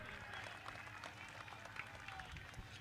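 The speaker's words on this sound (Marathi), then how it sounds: "टाळ्या वाजूया भावेशच्या या एफर्टसाठी" Crowd at a local cricket final, the Anadwadi Champions Trophy, clapping for a fielder's diving effort at a dropped catch, a faint, distant, continuous patter of applause with murmuring spectators.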